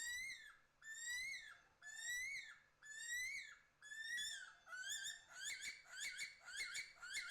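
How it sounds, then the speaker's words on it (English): An Australian bird lets out a series of shrill, ear-piercing screeching whistles, about five drawn-out cries followed by a quicker run of sharper calls, loud and close with no voices over them. "they will let out the most ear-piercing screech"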